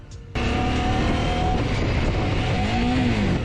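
A motorcycle engine with a faulty gearbox that slips into neutral runs steadily and loudly while being ridden, a continuous drone with a pitch that dips and rises near the end.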